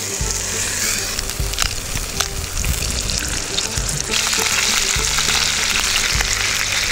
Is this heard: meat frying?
yes